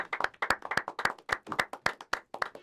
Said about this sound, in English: Give a round of applause for PD and Craig popping through